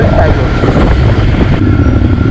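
Scrambler motorcycle ridden along a narrow mountain road between Manali and Jispa: a steady, loud engine drone mixed with heavy wind rush, continuous and close throughout.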